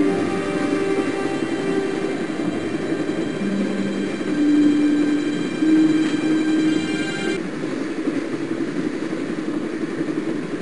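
Train in the Broken Sword game rumbling along with tonal whines and squealing wheel tones, steady and close for about ten seconds.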